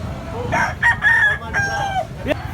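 A red Kelso rooster crows nearby, one drawn-out, wavering call rising and falling, with some faint clucking and background noise around it.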